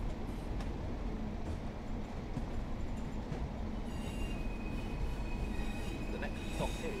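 A Pacer diesel multiple unit pulling into the Ormskirk terminus in Train Sim World 4 on the Blackpool Branches, with a steady loud rumble of running gear and brief wheel squeal near the end.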